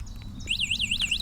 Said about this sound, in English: And there's your alarm.